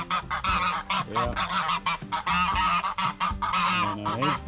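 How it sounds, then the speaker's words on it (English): A flock of old farmyard geese honks loudly and repeatedly at close range in overlapping bursts, with one brief spoken word. "There's old geese."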